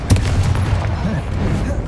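A Confringo blast spell cast in Hogwarts Legacy during a troll fight lands as a sharp burst up front, then rumbles on under a steady layer of game battle noise.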